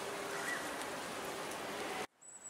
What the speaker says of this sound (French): il commence à pleuvoir, venez